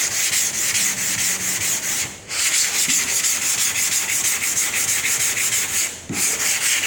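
Block sanding a car body by hand with 180 grit sandpaper to remove guide coat gives a loud, continuous rhythmic rasping scrub, with two brief pauses between strokes.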